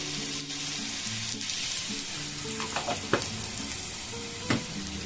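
Onions sizzle in a pan for a simple prawn dish, a close, steady frying hiss broken by a few sharp spatula scrapes and clinks, with faint low background hum and no talking.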